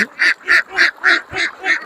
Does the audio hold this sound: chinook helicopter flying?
no